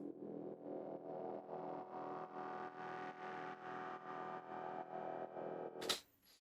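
A dark, sustained synth pad with a chorused, reverberant shimmer swells in pulsing chords, then ends abruptly with a brief bright noise.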